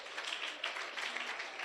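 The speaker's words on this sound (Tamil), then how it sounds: "நல்ல கைத்தட்ட கொடுங்க பார்க்கலாம்." Church congregation applauding at a Christmas celebration, a steady, fairly faint wash of clapping that holds evenly for under two seconds with no voices over it.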